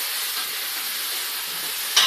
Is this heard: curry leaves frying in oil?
yes